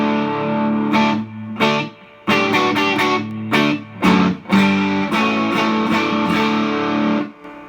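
An electric guitar plays through a Vox AC15 tube amp with a little reverb, choppy strummed chords with short gaps between bursts, loud and close, no voices.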